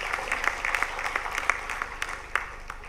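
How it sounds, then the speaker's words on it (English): An audience in a hall applauds the Prime Minister at a government scheme launch, giving moderate, fairly even clapping with some sharper individual claps standing out, somewhat distant and without talk over it. "may I request this House to give a big round of applause to Honorable Prime Minister"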